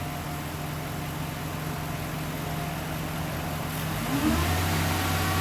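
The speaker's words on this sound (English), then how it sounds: "Now we throttle into it" A car engine with a failing charging system and weak alternator runs under throttle, a steady mid-pitched hum that rises into a rev near the end, close and alone.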